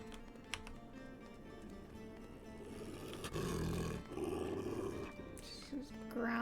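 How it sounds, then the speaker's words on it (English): A wolf growls in the WolfQuest video game, low rumbling bursts that swell in the middle and near the end over a busy game soundscape, with keyboard tapping in the background. "She's growling because she knows there's a cougar about."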